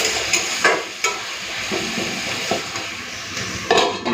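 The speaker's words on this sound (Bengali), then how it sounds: "এরপরে এই কুঁদরি আর চিংড়ি বাটাটাকে ভালো করে ভেজে নেব।" Ivy gourd and shrimp paste frying in a pan over a gas flame, with a continuous sizzle broken by repeated scraping stirs and light utensil knocks at uneven intervals, and no talk.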